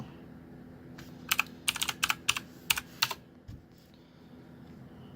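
A computer keyboard is typed on at close range in a short burst of sharp clicks. The clicks come in quick clusters for a couple of seconds and then stop, leaving a quiet room.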